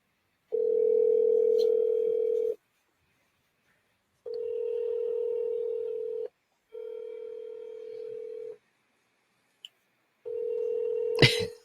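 Steady telephone dial tone during a cold call, sounding in four long bursts of about two seconds each with short silent gaps, a brief click near the end, no talking.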